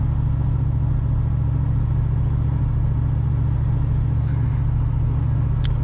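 A manual Holden VN with a 5-litre V8 cruises on the M80 motorway, its engine droning in a steady low rumble from inside the cabin, constant and loud throughout.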